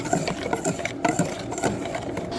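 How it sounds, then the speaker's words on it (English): Whisk beating egg yolks and a whole egg with sugar and cornstarch in a bowl for pastry cream, a steady fast scraping and clicking rhythm, close and continuous, with no voices. "we're just going to whisk it until it's fully combined with the sugar and cornstarch"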